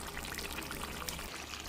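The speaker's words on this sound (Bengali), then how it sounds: "তো এখন আমি মাংসের মধ্যে দিয়ে দিচ্ছি ঝোলের পানি।" Water is poured into fatty meat already braised in a pot to make gravy. A soft, continuous stream of liquid runs steadily and fairly quietly throughout.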